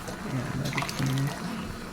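Canned tomatoes slosh and plop from the can into a pan, a wet, thick pouring with gurgling splats, close and moderately loud, followed by a second pour.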